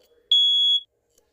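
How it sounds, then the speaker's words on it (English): Smoke alarm sounding during a fire system test: one loud, steady high-pitched tone lasting about half a second, then cutting off into near silence. "The smoke alarm should kick off."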